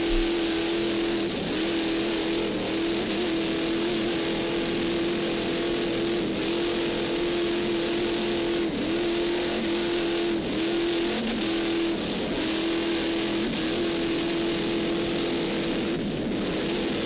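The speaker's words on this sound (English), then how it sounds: "Eric Bohr on the throttles, not missing a beat." The engine of a Fountain racing powerboat runs flat out at full throttle, giving a loud continuous drone with a steady pitch and small dips. It sounds close and onboard, with rushing wind and water noise and no talking.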